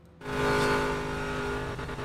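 A car engine in GTA 5 revs up sharply and holds a loud, steady roar for about two seconds, with a faint tire squeal under it.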